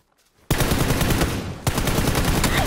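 Rapid bursts of automatic gunfire from a PlayStation 4 shooter video game, starting abruptly after a brief quiet moment and continuing loud and dense, with a short dip before another volley.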